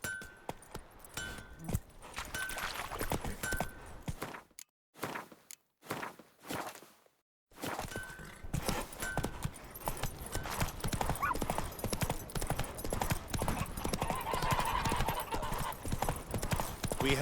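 Horse trotting in The Witcher 3, steady close clip-clop hoofbeats with faint jingling tack, broken by a few seconds of near silence before the rhythmic hooves resume and continue loud to the end.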